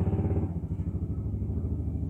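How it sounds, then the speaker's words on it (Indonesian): A motorcycle passes close by with a steady, throaty engine drone that holds for about two seconds and eases off slightly. Nobody speaks. "ada motor yang lewat nih"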